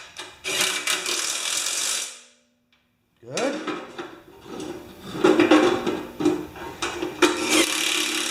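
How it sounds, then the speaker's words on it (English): A ratchet wrench turns a bolt under the gas tank of a 1973 Briggs tiller, giving bursts of rapid clicking with metal rubs and knocks, broken by a short pause midway, close and fairly loud. "Now I could remove the gas tank, but I've got this ratchet"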